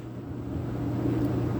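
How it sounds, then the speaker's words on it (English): An electric fan running in a hot room, a steady low whirring hum with a faint airy hiss, constant and unbroken in the background with no talk. "sorry about the noise in the background. It's hot where I'm at, so I'm running a fan."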